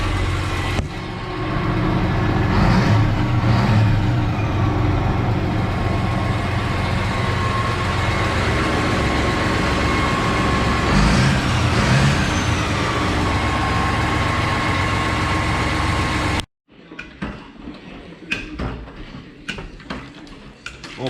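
A farm vehicle's engine runs loud and steady close by for most of the stretch, then cuts off abruptly, leaving quieter rattles and clunks in the yard.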